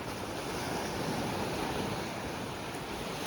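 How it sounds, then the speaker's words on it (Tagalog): Atlantic Ocean waves crash on Playa Nanin beach in Sanxenxo, Galicia, in the evening, making a loud, close, continuous roar of surf with some wind noise and no talking. "Medyo malakas na yung hampas ng alon"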